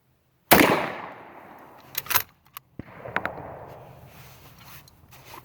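A shotgun loaded with Remington buckshot shells fires one loud, close blast that rings out and decays, followed by a few sharp metallic clicks and clacks.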